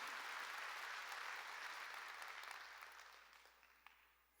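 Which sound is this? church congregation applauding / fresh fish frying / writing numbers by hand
church congregation applauding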